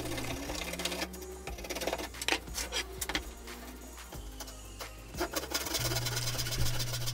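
A bandsaw cuts pallet and scrap wood for folding saw horse joints, its motor humming steadily close by while the blade rasps through the wood in bursts that rise and fall.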